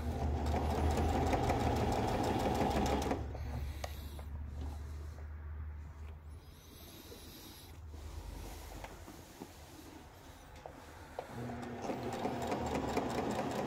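A sewing machine stitches a facing onto a tabard, running in a steady loud mechanical whir, then slowing to quieter intermittent stitching before speeding up again near the end.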